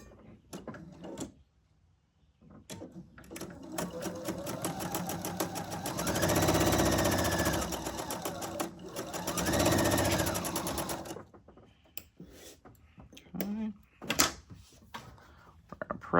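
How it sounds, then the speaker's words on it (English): A sewing machine stitches a quilt seam in two long, steady runs of rapid needle whirring, with short pauses and handling clicks and thumps of fabric and tools before and after. "Now we're going to sew that other seam."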